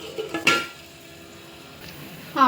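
A metal lid clanks onto a cooking pot simmering on the stove, one sharp clatter followed by a softer settling clink, close by with no talking.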